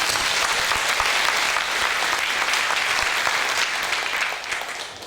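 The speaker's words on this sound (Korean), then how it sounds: "우리를 전도의 도구로 사용해 주신 하나님 앞에 모든 감사와 찬양과 영광을 박수로 올려드리겠습니다" A church congregation gives sustained applause, a dense wash of many hands clapping close and loud that tapers slightly at the end.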